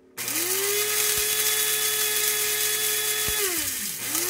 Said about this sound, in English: You have to hold the button and then release it to grind coffee to your liking.